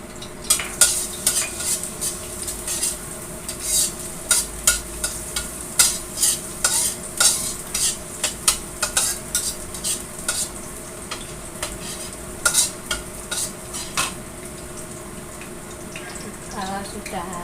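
Garlic fries in a pan for chicken spaghetti, a continuous sizzle with rhythmic spatula scrapes and clacks repeating every second or so, close and fairly loud, with some speech in the background.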